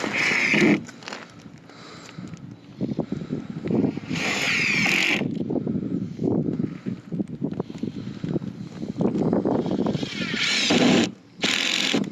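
A power tool drives screws during a roof leak repair, sounding as repeated close bursts of whirring and ratcheting with short pauses between fastenings.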